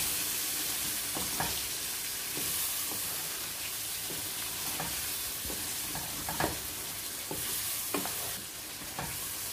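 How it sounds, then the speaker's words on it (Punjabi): Aubergine fries in curry gravy with a steady, loud sizzle, broken by frequent scraping strokes as the vegetables are stirred in the pan. "ਹੁਣ ਅਸਾਂ ਸਬਜ਼ੀ ਭੁੰਨਣ ਲੱਗੇ ਹਾਂ।"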